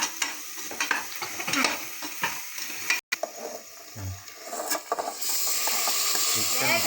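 Chicken for a home-style chicken curry sizzles in a pan, with repeated scraping stirs of a spoon over a steady hiss and a short break partway through; a voice talks briefly.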